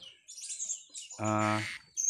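A blue-crowned hanging parrot (serindit) gives high, thin chirping calls. A brief louder harmonic call cuts in near the middle. The calls are close and intermittent against a quiet background.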